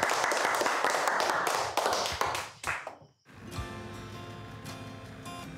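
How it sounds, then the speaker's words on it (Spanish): A group claps together in warm, strong applause for about three seconds, bright sharp hand claps tapering off, then fading into a busier mix of background sounds afterward. "vamos dar uma salva de palmas bem forte para os pessoas"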